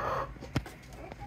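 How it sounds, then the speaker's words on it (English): Backyard laying hens, including bearded Easter-egger types, and a rooster cluck softly near the nest boxes in the morning, a few short clucks and scratchy thumps, faint and close. "Rooster's doing his thing, and the chickens are doing their thing."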